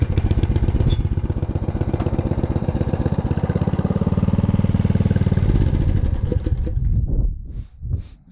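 A Yard Machines tiller engine runs on starter fluid, a steady close rumbling chug that holds for several seconds, then sputters and dies out near the end.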